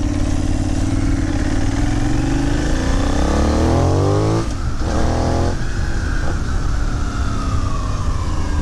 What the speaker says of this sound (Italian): Il motore allunga abbastanza.